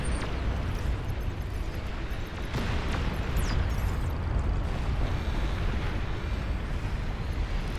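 A commander unit in the real-time strategy game Beyond All Reason blows up in a sustained, loud rumbling explosion that roars steadily for several seconds amid ongoing battle noise, with no talk.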